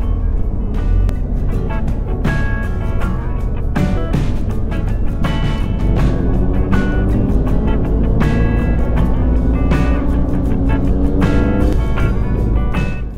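A BMW R1250GS motorcycle being ridden on a road in the Somme, a steady close engine drone with wind rush and gear-change pitch shifts, unbroken for the whole stretch, no talking.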